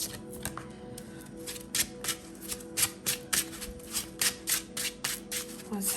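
Tarot cards are shuffled by hand close by, giving a quick run of crisp riffling flicks in a steady rhythm over faint background hum.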